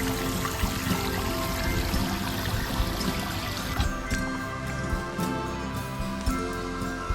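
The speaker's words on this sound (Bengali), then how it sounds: "এই ঝর্ণার মতো যে পানিগুলা বেয়ে পড়তেছে, এখানে কিন্তু সব সময় পানি পড়ে" Motor-fed water cascading down like a fountain in a Japanese park, a steady, loud rushing pour that runs unbroken throughout, with no one speaking over it.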